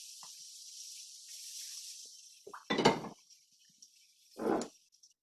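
Peppers hitting a hot pan for homemade fajitas, a steady close hiss of sizzling with a few louder clattering bursts as they land and are moved around.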